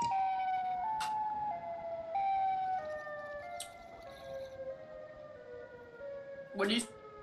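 Siren Head in a Minecraft hardcore survival game gives a wavering, siren-like wail that holds steady and slowly falls in pitch, with brief sharp game sounds and players talking over it.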